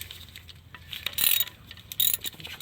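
A ratchet wrench loosening the small oil pan bolts underneath a 2008 Suzuki Forenza, heard as a few short bursts of rapid clicking with quieter mechanical handling between them.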